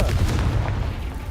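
A Confringo fire spell blast in the video game Hogwarts Legacy: a loud, heavy rumbling boom with a deep low-end roar that stays dense and sustained through the short burst, with no talking.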